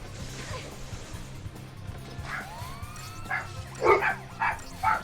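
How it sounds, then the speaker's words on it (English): Dogs bark somewhere in the background, several sharp yips and barks toward the end, partly under faint game sound and room noise. "Oh, the dogs are barking."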